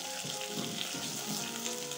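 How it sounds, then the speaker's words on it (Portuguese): Onion sautés in a pan with lightly browned garlic, giving a continuous close sizzle and crackle with no talking over it. "Já demos uma leve dourada no alho, vamos colocar então agora a cebola."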